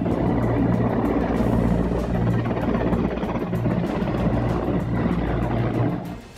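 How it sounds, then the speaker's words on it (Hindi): Several helicopters fly together over India Gate during a full-dress Republic Day rehearsal, making a loud, steady rotor and engine drone that holds throughout and eases slightly at the end. "एक साथ कई हेलीकॉप्टर इंडिया गेट के ऊपर से गुजरे।"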